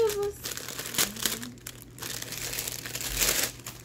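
Plastic packaging from a Temu haul crinkles and rustles in a few scattered bursts as a package is opened at home, with voices talking faintly in the background.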